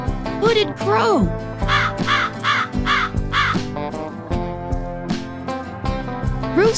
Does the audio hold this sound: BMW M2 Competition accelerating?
no